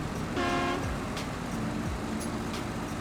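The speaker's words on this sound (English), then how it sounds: "This truck is so loud." A heavy truck engine in the off-road driving game Snowrunner drones loudly and steadily throughout, with a brief horn-like tonal blast near the start and rumbling low-end mechanical noise.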